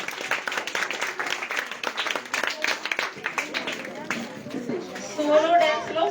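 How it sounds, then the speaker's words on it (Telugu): Volunteers clap loudly to cheer children at a school event, with dense, steady applause across the clip and crowd chatter mixed in, then the clapping thins near the end as a voice and other sounds rise. "ఒకసారి మన వాలంటీర్లు గట్టిగా చప్పట్లతో పిల్లల్ని ఎంకరేజ్ చేయాలి."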